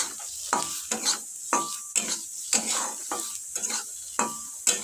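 Pointed gourd (potol) frying dry in a pan, with a soft sizzle under repeated scraping strokes of a spatula at a steady, roughly half-second rhythm, close and clear with no talking.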